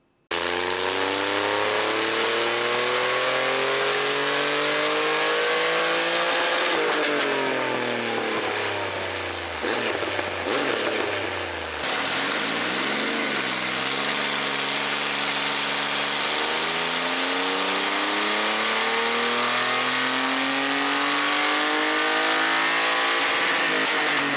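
A 2.5-litre Triumph Rocket 3 motorcycle engine revs loudly and close for over twenty seconds, its pitch sweeping up and down through repeated throttle blips, with a brief dip midway before climbing again.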